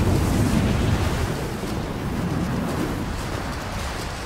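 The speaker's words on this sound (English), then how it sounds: "This wind is crazy." Steady roaring wind on a snowy mountain summit in Rise of the Tomb Raider, a dense continuous rush that is strongest at the start and then settles to a constant blustery howl, with no voices.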